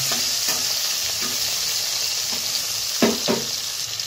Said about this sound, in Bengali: তো আলুগুলো হালকা হালকা ভাজা হয়ে গেছে